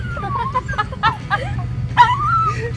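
Dogs yip and whine in short, high bursts over a steady low ferry engine rumble, fairly close and loud.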